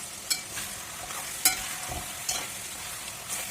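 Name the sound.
meat frying with tomatoes, being stirred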